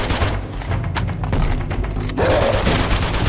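Dense gunfire from shooting enemies in Uncharted 2, rapid overlapping shots and booms filling the whole stretch loudly and continuously.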